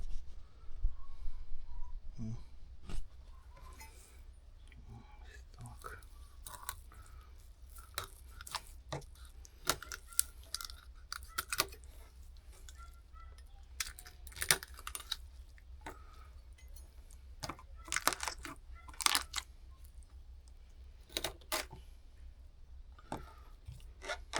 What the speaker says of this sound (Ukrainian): Так, нарізаємо далі нашу перепілочку.